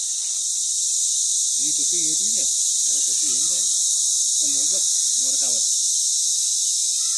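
Crickets chirp in a dense, unbroken high-pitched drone outdoors in a village near Mahad in Raigad, steady and loud throughout, while people talk quietly underneath.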